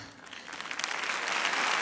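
A large crowd at an ice skating gala in Grenoble breaks into sustained applause that swells into a broad, continuous wash of clapping, heard alone without talking.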